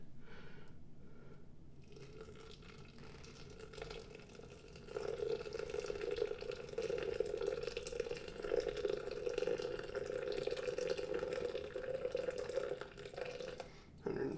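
Hot 205-degree water pours onto coffee grounds for the bloom, a soft, steady close-up trickle that starts partway through and runs on fairly evenly until just before the end.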